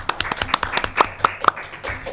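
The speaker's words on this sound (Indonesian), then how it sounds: "Tepuk tangan dulu dong semuanya" A podcast audience claps at the close of a session, a short run of scattered, uneven hand claps from a small group, fairly close and moderately loud.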